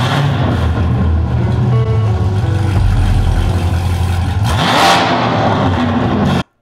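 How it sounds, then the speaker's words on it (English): 2020 Chevrolet C8 Corvette with a FabSpeed Valtronic straight-pipe exhaust revving loudly and close, a raspy sustained roar that swells into a sharp rev near the end before cutting off abruptly. "With the new FabSpeed Valtronic exhaust system, this upgrades the car to how it should have sounded from the factory."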